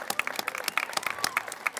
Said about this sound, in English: take a round of applause for the team at Easy Mile